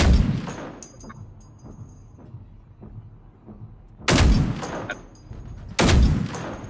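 Gunfire in the video game Generation Zero aimed at a tank: loud, booming shots at the start and two more near the end, with lighter, quicker reports crackling in between.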